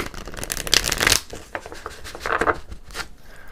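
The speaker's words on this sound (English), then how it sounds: "I'm going to do one more shuffle here before we go on." Tarot cards are shuffled in several quick riffling bursts, crisp and close, with short pauses between them.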